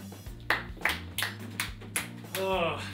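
A small studio audience at a campus comedy show claps in a sparse, uneven way, about five scattered claps over quiet music, followed by a brief vocal sound.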